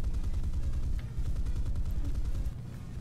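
Aircraft cannons firing in War Thunder, rapid continuous bursts of gunfire with a dense rhythmic low thudding that pauses briefly once and then resumes, steady and close throughout.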